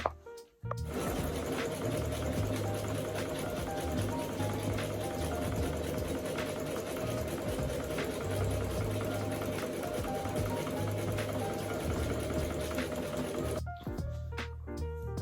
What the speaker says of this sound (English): I'm going to sew across the top, sew both sides, leave the bottom open